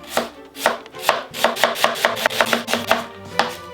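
A knife chops yellow onions on a cutting board in quick, evenly spaced sharp thuds, about a dozen crisp strikes close by, with no talking.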